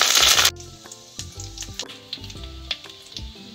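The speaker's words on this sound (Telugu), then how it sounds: "ఆయిల్ కాగిన తర్వాత జీలకర్ర ఇంకా ఆవాలు వేయాలి, ఎండుమిర్చి," Cumin, mustard seeds, dried red chillies and curry leaves dropped into hot oil, a loud burst of sizzle at first that settles into steady crackling with scattered pops and clinks.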